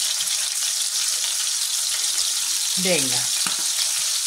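Chicken seasoned with thyme and pepper fries and browns in a pan, a steady close sizzle throughout, with a brief spoken word near the end.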